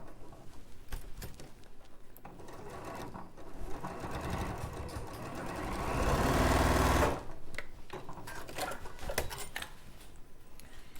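A sewing machine runs a centre seam on a reverse appliqué cushion in a sewing studio, starting and stopping with an intermittent whir that swells into one longer, louder run before easing off.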